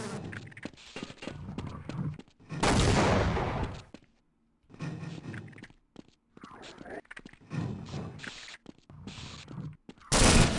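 A turret in Half-Life fires in loud, rapid automatic bursts, several sustained volleys separated by short silences, close and harsh.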